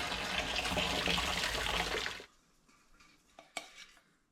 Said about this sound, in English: Right, I need to drain my peas.